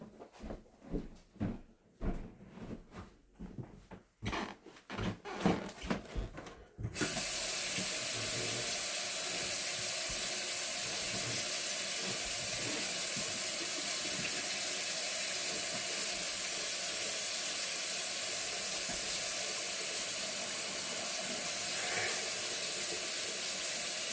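Tap water runs steadily into a sink while paint brushes are rinsed, a loud continuous hiss beginning abruptly after a few seconds of knocks and handling noises.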